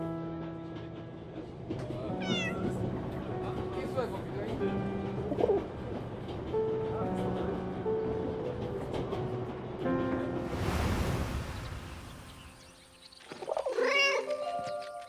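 A cat meows and yowls in the World War I game 11-11: Memories Retold. Pigeons coo nearby and soft music plays underneath.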